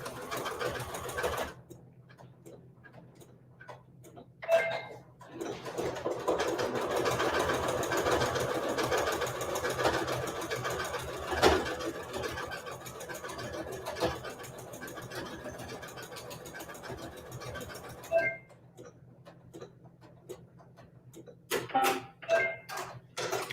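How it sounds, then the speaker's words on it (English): A sewing machine stitches a seam on a quilt block in a steady, fast mechanical whir lasting most of the stretch, starting and stopping with brief quiet gaps and small clicks at either end. "we're gonna turn it and stitch that other seam"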